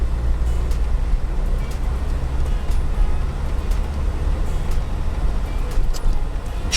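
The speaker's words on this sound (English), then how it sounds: "You can see we're kind of driving through the golf course right now." A car drives through a golf course neighborhood in Navarre, Florida, giving a steady, close, low road rumble with continuous tire and engine noise and no speech.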